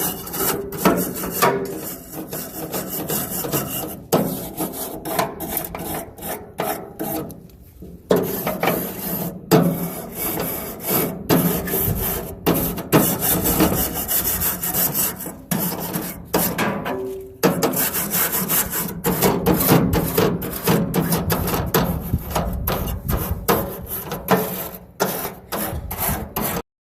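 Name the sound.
stainless steel bristle brush scrubbing outdoor grill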